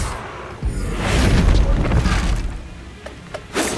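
A Bombarda spell explodes in a Harry Potter video game battle, a deep rumbling boom swelling and fading over a few seconds, followed by sharper cracks and impacts near the end.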